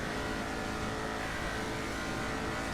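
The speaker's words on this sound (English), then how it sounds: "This is the Interceptor for the BCSO." A police Interceptor car for the BCSO in a GTA roleplay game gives a steady, continuous engine drone at moderate level, running without pause or voices.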